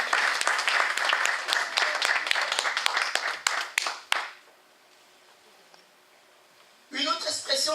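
A church congregation at a worship service claps and cheers loudly for Jesus. The dense applause runs for about four seconds, fades into quiet, and then a voice speaks near the end.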